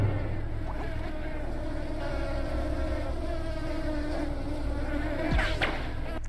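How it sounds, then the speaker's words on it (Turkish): Flies buzzing steadily in the video game Supraland, a continuous droning hum with slight wavering pitch that stays close and fairly loud throughout, with no talking. "Sinekler bundan etkilenmiyor mu?"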